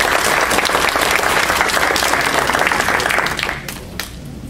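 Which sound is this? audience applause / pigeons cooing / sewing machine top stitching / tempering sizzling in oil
audience applause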